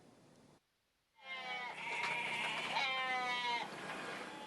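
Sacrificial goats at a goat farm in Jatibarang, Semarang bleat loudly and close by in long wavering calls that overlap, following a brief quiet gap.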